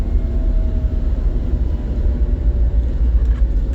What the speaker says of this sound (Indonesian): Nah, suara motor NMAX tuh ya, tuh denger loh.